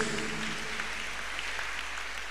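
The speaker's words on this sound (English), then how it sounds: "Clap your hands unto God of the Choosing." Congregation clapping hands at a Tuesday miracle service, a steady wash of applause heard from some distance, fairly faint, with a faint murmur of voices beneath it.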